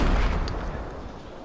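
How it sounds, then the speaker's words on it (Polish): An explosive weapon such as a rocket launcher or grenade goes off in the video game Fortnite. One loud, close boom hits at the start and then fades into a rumbling tail. "Kolejna jest likwidacja eksplozją lub bronią wybuchową, czyli wiadomo rakietnicą albo granatami lub czymś podobnym."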